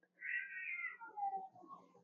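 A cat meows twice, a drawn-out high mew followed by a lower, shorter call, close and clear over a faint steady hum.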